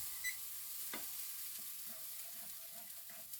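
A grilled cheese sandwich sizzles softly in a small pan on the stove after being flipped, a steady faint frying hiss with a few light clinks and taps, no voices.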